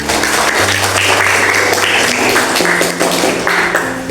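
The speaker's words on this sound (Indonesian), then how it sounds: "Tepuk tangan untuk mereka." Students in a classroom clapping for their classmates, a loud, close burst of hand claps continuing evenly with a low tonal hum beneath.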